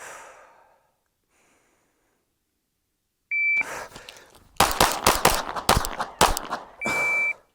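Pistol shots at targets during a point-shooting headshot drill: an electronic beep, then a rapid string of about six sharp, loud cracks, followed by another beep.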